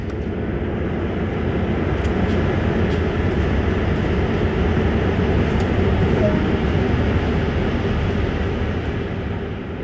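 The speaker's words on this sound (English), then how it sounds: "We'll take the locomotives over to Salisbury Junction and couple up to B251" A CSX GP38-2 diesel locomotive in Train Sim World 2020, on the Cumberland heavy-haul route near Sand Patch, gives a steady, loud engine drone with a constant low rumble and faint clicks, heard close and unbroken.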